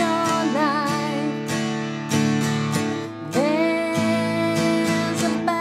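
Acoustic guitar strummed through the chorus of a song in a beginner three-chord pattern, bright ringing chords with steady rhythmic strokes and chord changes, close and loud, no voice.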